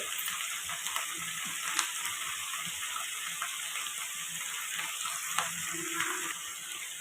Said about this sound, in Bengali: আমি ঢাকনা দিয়ে কিছুক্ষণ ফ্রাই হতে দেবো যতক্ষণ না ঝিঙে আর কুমড়োটা একটু মজবে